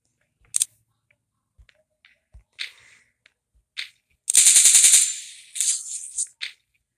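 Gunfire crackles in a war video game, with a few isolated shots followed by a longer automatic burst and several more bursts, loud and close with no talk over it.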